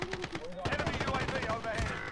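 Rapid automatic gunfire bursts ring out in a Warzone match, loud and close, in quick strings of shots with a voice briefly heard.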